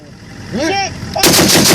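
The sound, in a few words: 50 caliber machine gun firing from a C-18 gun truck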